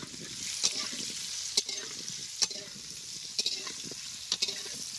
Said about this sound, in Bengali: আমাদের আলুটা ভাজা হয়ে গেছে